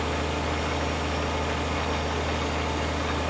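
Steady, loud tractor engine idling with a constant low rumble in Farming Simulator 2013, running alone without pause.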